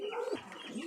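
Pigeons coo inside a racing pigeon loft where birds sit on eggs; a soft, close, continuous cooing with gliding tones runs throughout, with no one talking.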